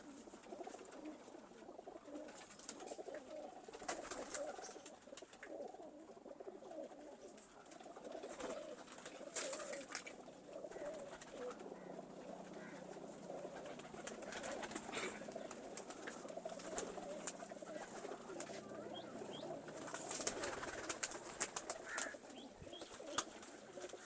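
A group of male pigeons coos continuously in their loft, with overlapping, rolling calls at moderate volume and occasional rustling, and no voices.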